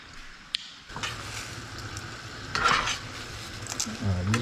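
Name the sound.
noodles cooking in a pan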